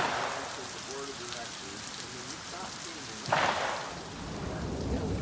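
Steady rain pours down on an outdoor rifle shooting range, a dense, hissing patter on surfaces that persists throughout, with a sharper burst of noise partway through.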